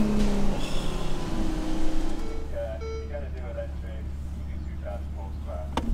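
A Ferrari 812 GTS at the Goodwood Festival of Speed revs to about 4,000 RPM in second gear on a wet track, a deep engine roar beneath a voice, then a lower rumble as he goes quiet.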